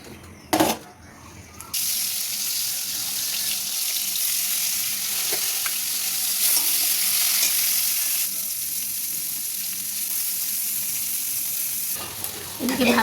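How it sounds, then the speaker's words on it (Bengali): Bitter gourd slices frying in a pan give a steady, close sizzle that runs almost unbroken for about ten seconds, with a few brief knocks and clatters at the start and end. "এবারে উচ্ছেগুলো ভাজবো।"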